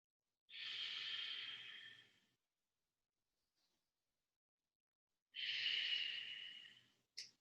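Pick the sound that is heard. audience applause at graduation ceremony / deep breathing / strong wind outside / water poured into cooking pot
deep breathing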